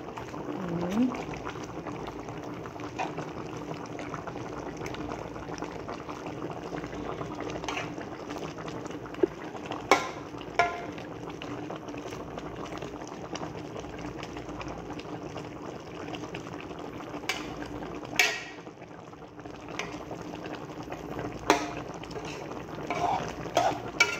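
Pochero broth with cabbage and other vegetables simmers in a pot, a steady soft bubbling with occasional louder pops and clinks over a long stretch.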